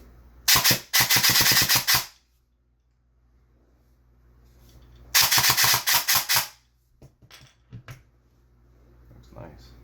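Custom DMR rifle in a video game firing two rapid bursts of sharp, loud shots, one early and one midway, followed by a few fainter mechanical clicks.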